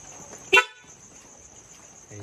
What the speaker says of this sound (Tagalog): ito na may loud horn natin